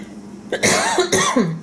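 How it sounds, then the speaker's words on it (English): Two short, harsh coughs close to the microphone, one after the other, with no talking. "Oh, I think I have got a cough again."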